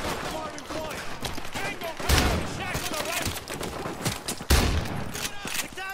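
Gunfire in Call of Duty: Modern Warfare 2, repeated bursts of shots with two heavy blasts, loud and close, layered under in-game voices and battle noise.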